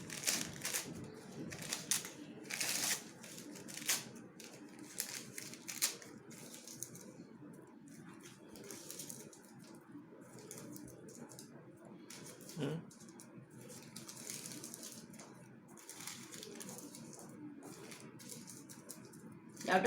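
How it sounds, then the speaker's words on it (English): Dark green colored paper crumpled by hand into tight balls for a craft butterfly's wings, giving a close, crackly rustle in uneven bursts, with a voice talking at times. "You have to crumple it very nicely and don't make it loose. Make it tight."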